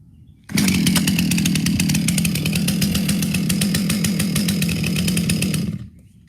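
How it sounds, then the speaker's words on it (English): A chainsaw fires up abruptly and runs at a steady, loud, buzzing roar for about five seconds before cutting off, close by and with no talk over it. "If in the field you're jump starting a chainsaw without a chain brake"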